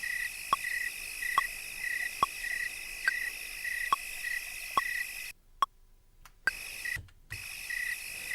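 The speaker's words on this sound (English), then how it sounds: "here's a sound effect of, frogs and crickets at night" Looped nighttime ambience of crickets and frogs: a steady high insect chirring with regular sharp clicks about once a second, briefly dropping out in short gaps before resuming.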